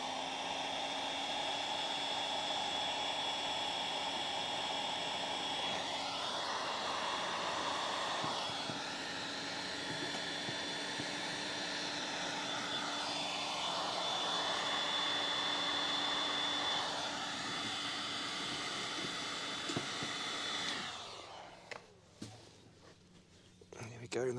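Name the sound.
heat gun heating a pond hose section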